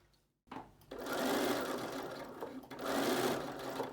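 A sewing machine stitches fabric at close range, starting after a short silence with a steady mechanical whirr that pauses briefly and then runs again.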